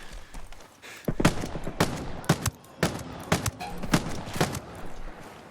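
Shotgun blasts in the video game Ghost Recon Breakpoint: about seven sharp, loud booming shots at uneven intervals over a low background rumble.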